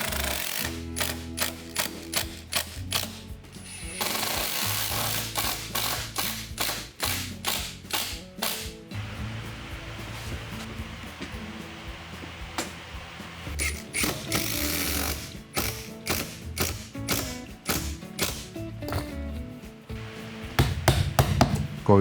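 A power driver sinks screws into a decorative wooden sill at a new-build house site. It makes loud, close, rapid ratcheting bursts that start and stop repeatedly with short pauses between, and nobody speaks.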